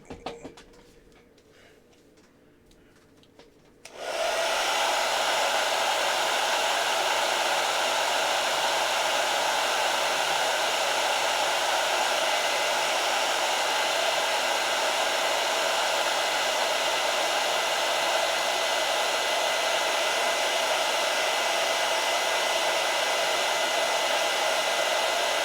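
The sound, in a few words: hair dryer drying paint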